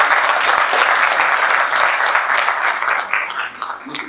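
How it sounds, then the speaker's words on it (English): Tutorial audience at IBC 2019 applauding the speakers, loud continuous clapping from a roomful of people that thins and fades toward the end. "we could give all of our speakers a big round of applause"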